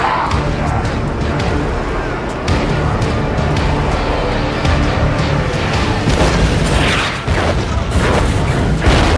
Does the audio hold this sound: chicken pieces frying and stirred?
no